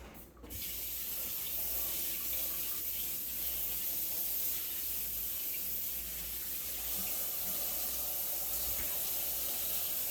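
A long vegetable washed under a running kitchen tap, a steady close splashing stream of water that starts abruptly and continues throughout without talking.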